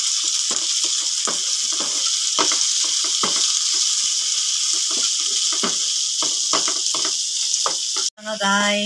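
Sliced Baguio beans frying in a pan for pancit miki make a loud, continuous sizzle with repeated stirring scrapes, ending in a short clatter.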